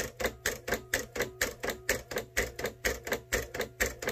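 A craft cutting machine slicing printed paper ephemera gives a fast, even clatter of about four sharp ticks per second, mechanical and close, with no voices.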